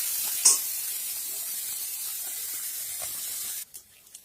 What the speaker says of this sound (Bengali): চিংড়ি মাছ আমার লাল লাল করে ভাজা হয়ে গেল